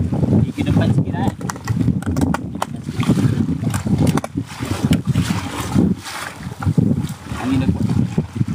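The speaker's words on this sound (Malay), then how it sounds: "Angin dah kuat." Strong wind at sea aboard a small inboard-engine fishing boat, a continuous heavy low roar with gusting buffeting across the microphone throughout, and speech heard intermittently over it.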